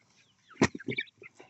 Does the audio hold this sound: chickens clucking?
yes